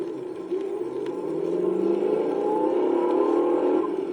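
A Cobra car's engine plays back from a grooved record, revving steadily and rising in pitch as it climbs through first gear, a continuous mid-range roar that grows slightly louder over a few seconds with no talking.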